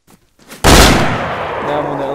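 Sudden loud burst of heavy gunfire erupts in the DayZ video game after a quiet moment, sustained volleys of shots merging into a dense, continuous roar that stays close and intense.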